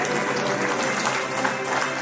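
An audience at a teachers' award ceremony claps continuously, a dense and lively patter of many hands filling the room from start to finish.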